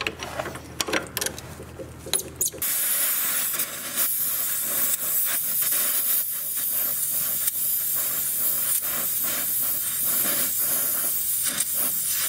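Torch flame roaring steadily as it heats a stuck strut nut on a 2007 Chevy Equinox right front suspension, a loud continuous hiss starting after a few seconds of clicks and clatter.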